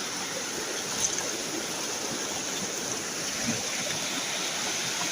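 Rushing water from a rocky stream in a gem-hunting area where stones have been dug up, a steady broadband wash of flowing current with no pauses, fairly close and continuous throughout.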